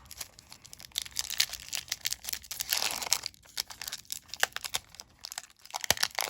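Crinkly foil tearing and rustling as a Yu-Gi-Oh! Eternity Code booster pack is ripped open, a close series of crisp crackles and tears in uneven bursts.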